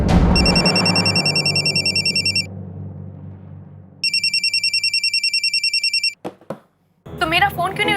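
A telephone bell rings in two long bursts of rapid repeated trills, loud and close, with silence between; a short clatter follows as the handset is picked up, then a voice begins speaking.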